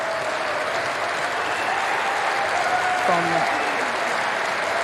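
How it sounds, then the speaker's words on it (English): Loud, sustained applause from a large crowd at an outdoor orchestral concert at the Sydney Myer Music Bowl, a steady roar of clapping with a voice briefly heard over it. "round of applause"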